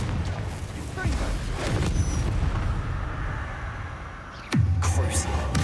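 Confringo fire spells in Hogwarts Legacy burst with booming blasts, and one heavy explosion lands near the end. A voice calls out between the impacts over a rumbling background.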